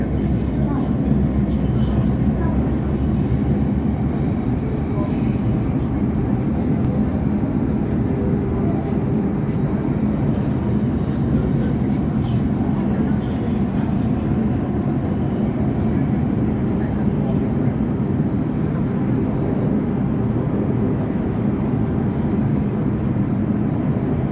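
A Singapore MRT underground metro train rumbles steadily and loudly from start to finish in a station five floors below ground, with a constant low roar and no talking.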